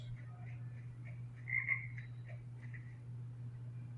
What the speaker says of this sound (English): but I think I just heard a frog.